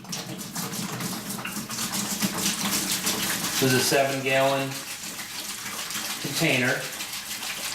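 Water gushes steadily into a 7-gallon plastic reservoir container for a homemade hydroponic garden, a continuous close pouring noise running the whole time while someone talks over it.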